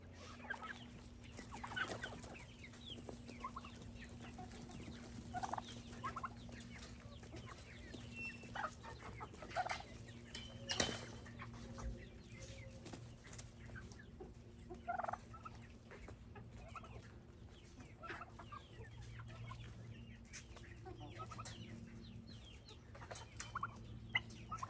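Backyard chickens cluck and murmur steadily while pecking at taco salad scraps, with soft, overlapping calls and a faint low hum running beneath.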